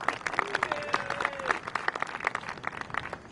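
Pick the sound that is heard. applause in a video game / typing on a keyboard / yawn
applause in a video game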